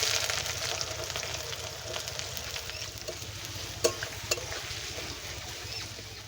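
Onions going into hot oil already seasoned with garam masala, bay leaf and dried red chilli for a chicken dum biryani, giving a steady, moderately loud sizzle with soft stirring scrapes and a couple of sharp clinks partway through.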